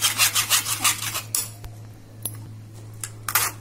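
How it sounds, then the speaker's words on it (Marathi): Halwai-style samosa and kachori chutney paste is worked through a sieve, giving a run of quick rhythmic rubbing, rasping strokes that then give way to a few sparse scrapes and light clinks, close by with no talk. "आता हे सगळं मिश्रण चाळणीमध्ये ओतून गाळून घेऊया."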